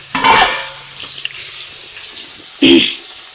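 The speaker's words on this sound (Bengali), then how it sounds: "তো এগুলো মাছ কড়াইয়ে দিয়ে দূরে আছি, তার কারণ হচ্ছে খুব তেল ছিটে আসে এগুলো মাছ থেকে" Fish fries in hot, spattering oil in a wok, with two short, loud bursts of sizzling and clattering separated by quieter crackling. No one speaks.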